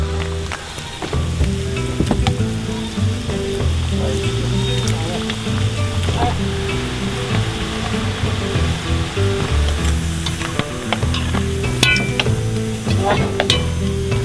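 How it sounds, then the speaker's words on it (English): Mongolian bortsog dough biscuits fry in melted-down frozen animal fat, a loud continuous sizzle and crackle with stirring clinks and scrapes, close up and without speech. "The biscuits are done frying."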